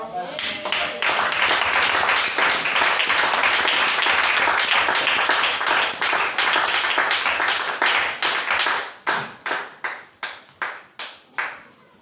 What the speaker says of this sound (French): Il mérite nos acclamations.